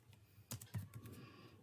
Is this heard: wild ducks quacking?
no